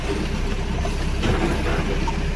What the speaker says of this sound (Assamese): মণিপুৰৰো ট্ৰেইন আহিছে আৰু এতিয়া